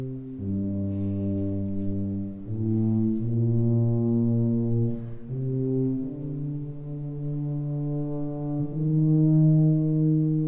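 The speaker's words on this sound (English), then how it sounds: "And the extremely slowed down version in the tuba." Tuba plays an extremely slowed-down fugue theme, with long sustained low notes changing pitch every couple of seconds in a steady, loud, solo line.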